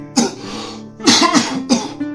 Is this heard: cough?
yes